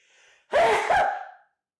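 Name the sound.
loud aggressive sneeze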